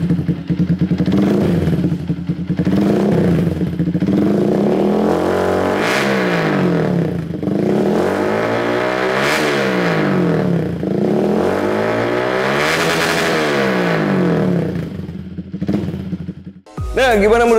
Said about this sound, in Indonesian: kita nyobain knalpot dari CLD Monster yang bener-bener ya kalau kalian lewat pasti ketilang teman-teman. Karena memang knalpotnya ini suaranya badak banget